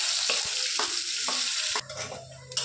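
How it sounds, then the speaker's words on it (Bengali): Garlic fries in hot oil in a pan, a loud continuous hiss and sizzle with a few stirring scrapes and a fresh burst of crackling near the end. "তেলের উপরে রসুনটা দিয়ে দেবো"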